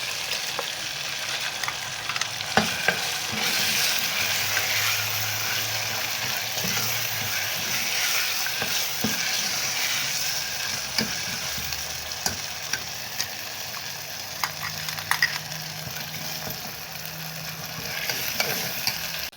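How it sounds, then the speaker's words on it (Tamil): Roasted ground masala sizzles and fries steadily in a pan for Madurai-style mutton curry, with occasional stirring scrapes and clinks over a continuous close hiss lasting the whole stretch. "இந்த மசாலாவை இப்போ இதில் போட்டுக்கணும்"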